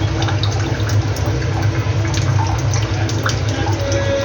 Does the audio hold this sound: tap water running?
yes